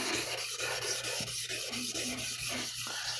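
A whetstone is rubbed back and forth on a coarse 320 grit flattening stone, producing a close, rhythmic gritty scraping with regular strokes and no voices.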